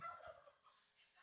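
Two turkeys pardoned at the National Thanksgiving Turkey event gobble in a quick, faint warble that fades within about a second, heard alone.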